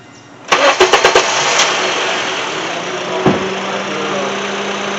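A 2007 Honda CR-V engine cranks with a quick series of starter clicks, catches and settles into a loud, steady idle, with a short knock partway through.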